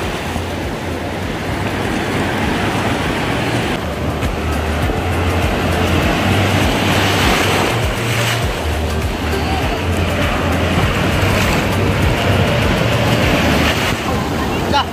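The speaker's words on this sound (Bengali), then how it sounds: "বঙ্গোপসাগরের ঢেউটা" Bay of Bengal waves wash onto a crowded Puri beach, a continuous broad rushing surf heard close and loud, with steady wind noise and low rumbling throughout.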